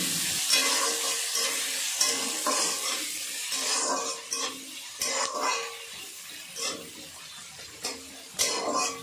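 Sliced onions frying in a pan with five-spice seeds for a hilsa fish curry, giving a continuous close sizzle broken by repeated stirring scrapes and clatters against the pan, without speech.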